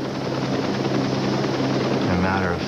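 A rescue helicopter arrives, its rotor making a steady, loud, continuous thudding drone that fills the whole stretch without a break.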